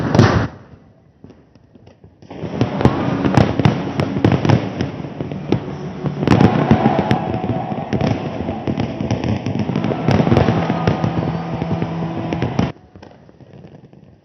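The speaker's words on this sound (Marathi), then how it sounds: "लक्ष्मीपूजनाच्या दिवशी तर बेफामपणे फटाके फोडले जातात" Firecrackers and fireworks burst during Diwali on the night of Lakshmi Puja in Mumbai: a loud, dense, continuous crackle of overlapping bangs and pops lasting about ten seconds, with no talking.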